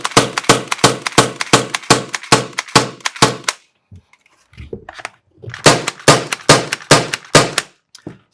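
A T4E .68 caliber HDB paintball shotgun fires rapid, evenly spaced sharp pops in a long volley, then after a brief pause with faint handling clicks fires another quick string, loud and close.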